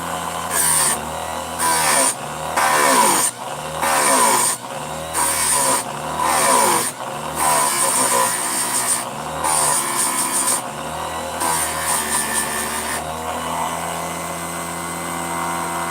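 A blade edge being ground at 30 degrees on a powered grinder, a loud steady whirring grind broken into rhythmic pulses of about half a second as the edge is passed repeatedly, then fading to a lighter hum near the end.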